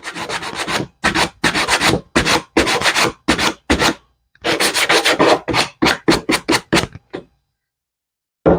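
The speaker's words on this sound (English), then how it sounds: "A little bit more sanding on the corner." Hand-sanding the corner of a wooden canvas stretcher bar for an 8x10 frame: close, rhythmic bursts of rough rubbing strokes in quick groups with short pauses, ending in silence.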